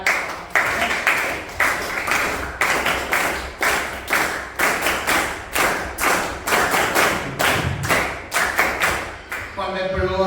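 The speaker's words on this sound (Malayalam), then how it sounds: "എല്ലാവരും താളത്തിലൊന്ന് കൈയടിക്കാം." An audience of students in a school motivation class claps together in a steady rhythm, loud, evenly spaced group claps repeating for several seconds before stopping abruptly.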